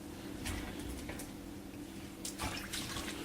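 Cauliflower and broccoli soak in salted cold water, giving a quiet, continuous splash and trickle with a few soft drips and sloshes. It sits close and faint, with no talking.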